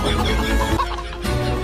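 A chicken clucks close by in several short, loud bursts over about two seconds, with no talking.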